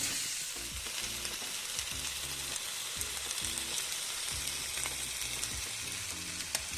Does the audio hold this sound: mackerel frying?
yes